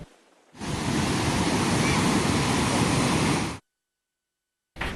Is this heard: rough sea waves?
yes